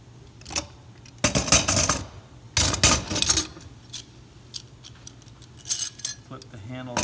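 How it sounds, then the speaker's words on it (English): A metal clamp clanks and rattles as it is handled and tightened down onto a table, with two loud bursts of clattering metal and a few lighter clinks and taps in between, heard close up with no talking. "I'm also going to take a clamp and hold it down to the table."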